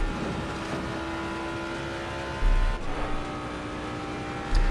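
A racing car engine in a racing video game drones steadily at high revs through a circuit lap, with a brief low thump and shift partway through and another at the end.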